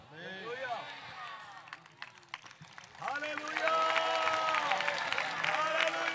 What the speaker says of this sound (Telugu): మళ్ళీ చప్పట్లు మాత్రమే కొడుతున్నారు, స్తుతులు చెప్పాలండి.